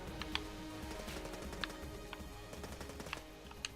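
Machine pistol fire in the roguelike shooter Enter the Gungeon, a scattered run of quick, light shots with sharp clicks over a low, steady game backdrop, fairly faint and with no talking.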